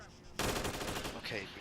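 Machine gun fire in a military video game, a dense sustained burst of rapid automatic shots loud and close, with faint voice chatter under it.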